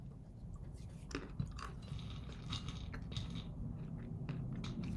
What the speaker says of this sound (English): I gotta stop chewing.